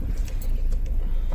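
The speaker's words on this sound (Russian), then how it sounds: "Машина едет." A car drives by, a steady low engine and tyre rumble at moderate loudness through the whole stretch, with a few faint higher clinks and no speech.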